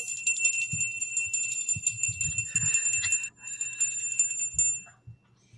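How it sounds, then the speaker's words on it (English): A hand bell rings steadily and brightly close by, its shimmering tone sustained over several seconds with soft low thumps underneath, then fading out near the end. "I like my bells."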